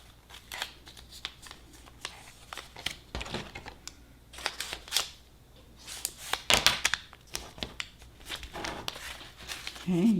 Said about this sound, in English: take this side and fold into the center